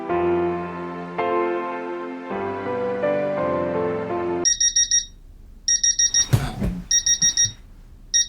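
An alarm clock rings in a series of loud, rapid beeping bursts that repeat steadily, broken by a brief rustle when it is snoozed, after a stretch of music at the start.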